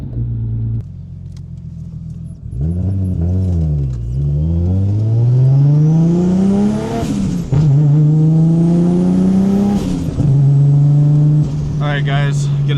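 A Nissan Skyline R32 engine revs up and accelerates through several gears on a test drive after a brake repair, the pitch climbing and dropping with each shift, loud and close throughout.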